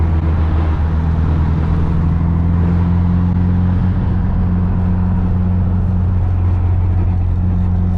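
A Nissan S13 Silvia cruising along, with a steady, loud low engine drone and road rumble heard from inside the car, no talk.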